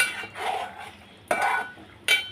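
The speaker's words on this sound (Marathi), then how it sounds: "आता आपण झाकण काढून घेऊया" A lid comes off a pot of dried fish and potato curry with a muffled scrape, then two sharper metallic clanks follow, close and fairly loud against a quiet kitchen.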